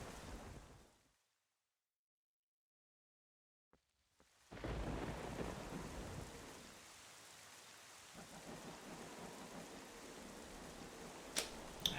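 Thunderstorm in the video game Zelda: Wind Waker, with a fading rumble dropping into near silence, then a sharp crack of thunder followed by steady rain hiss and a few distant rumbles and clicks.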